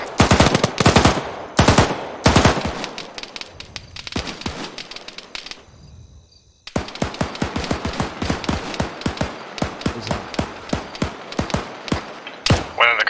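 Automatic machine gun fire during a military operation, bursts of sharp rapid shots crackling close and loud, broken by a short lull before another long sustained string of rounds, with voices talking over the firing.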